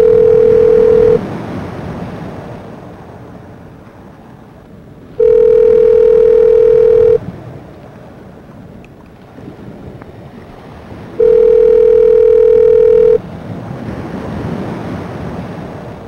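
A phone call placed on speaker rings out in three long, loud electronic tones spaced several seconds apart, with a breathy rush of background noise filling the pauses.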